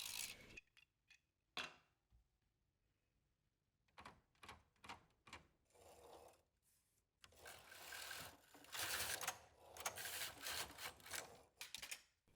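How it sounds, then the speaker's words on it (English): A slider runs across a knitting machine ribber bed to drop stitches for a drop-stitch fabric, making rattling, clattering metallic sweeps in bursts, from short clicks to longer rasping runs, close and with no talking. "I use the slider again to drop the stitches and repeat."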